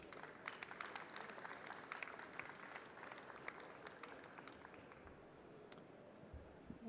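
Audience applause at an awards ceremony for business and environment, dense steady clapping from a crowd that holds for several seconds before tapering off toward the end.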